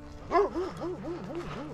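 A dog on a hiking trail gives a short run of yelping, whining barks, close and moderately loud, in a rising and falling rhythm with no talk.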